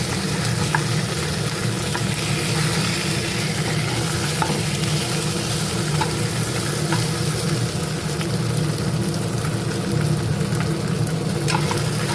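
Fish sizzles and spatters in hot oil in a pan, a continuous close frying hiss with light stirring that holds evenly for the whole stretch, with no voices.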